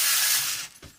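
Small geared steering mechanism on a Gizmovine RC crawler whirring and ratcheting steadily as the wheels turn, close and fairly loud, easing off near the end.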